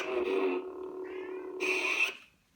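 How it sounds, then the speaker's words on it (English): A pet cat named Padme meows indoors in a quiet room, two drawn-out calls close to the microphone, the second brighter and sharper before it fades into silence. "That's my cat."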